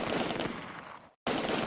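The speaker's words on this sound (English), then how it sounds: "Corporal Buckner's BAR squad delivers enfilade fire down the street" Rapid automatic fire from a BAR squad in the World War II strategy game Close Combat: A Bridge Too Far, sweeping down a street in Nijmegen; a loud, dense burst of shots that cuts off briefly, then resumes just as hard.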